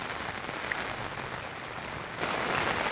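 Heavy, steady downpour of rain on a rural road, a dense continuous hiss that swells slightly louder toward the end, with no voices.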